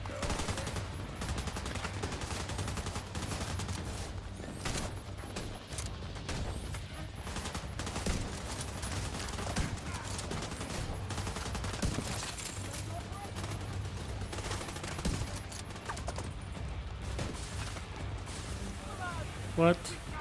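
Rapid gunfire from The Division 2, bursts of automatic shots and scattered impacts rattling continuously through a hectic firefight, with a player talking excitedly over the shooting.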